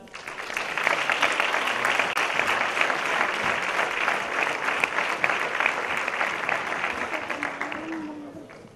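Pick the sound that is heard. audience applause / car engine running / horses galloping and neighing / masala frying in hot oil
audience applause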